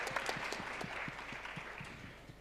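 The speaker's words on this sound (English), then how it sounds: "Your work deserves another round of applause," A crowd claps steadily, a dense wash of applause that holds at even loudness before tapering off slightly.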